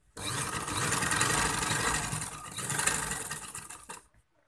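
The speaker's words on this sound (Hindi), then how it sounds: "अब इस सिलाई को यहां तक ले आए" A sewing machine stitching a neck placket on a garment, one continuous run of rapid mechanical whirring for about four seconds, close and fairly loud, then it stops; no talk.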